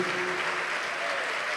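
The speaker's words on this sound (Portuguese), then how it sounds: "vamos aplaudir" Audience applause fills a church service, a steady broadband wash of clapping hands that holds evenly from start to finish with no pauses and no voices standing out.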